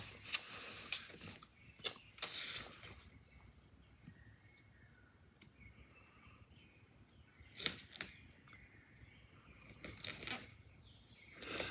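Scissors snip through paper stickers in a journal, giving a few short crisp cuts and rustling bursts spaced by quiet pauses, close and fairly faint.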